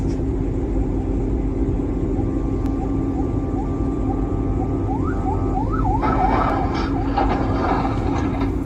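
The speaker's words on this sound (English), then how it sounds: "Could it be that neither the bus nor the pickup truck heard the sound of the ambulance?" An ambulance siren wails from the middle distance through heavy road and traffic rumble, its rising and falling tones faint at first and then quickening into a faster yelp toward the end.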